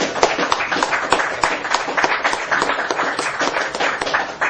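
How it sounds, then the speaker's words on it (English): A lecture audience claps together, making a dense, lively patter of many hands that holds at a steady level for several seconds. "Give yourselves a clap."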